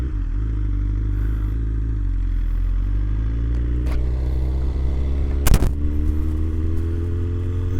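A BMW motorcycle ridden at night in hot weather, its engine humming loud and steady with rising pitch as it accelerates, plus a brief sharp clatter near the end, heard close from the rider's position.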